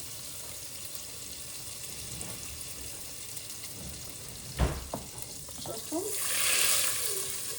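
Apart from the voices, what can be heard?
butter melting and sizzling with onions in a pan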